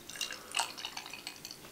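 Midnight Toffee Stout, a very dark beer, is poured into a glass, giving soft, close splashing and dripping with a brief louder gush midway.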